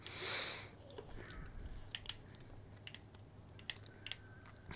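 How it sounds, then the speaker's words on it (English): Someone crunching on cheese balls close to the microphone, a muffled burst followed by scattered, irregular crisp bites and chews, faint and quiet with no talking. "I don't think you guys want to hear me crunch on cheese balls."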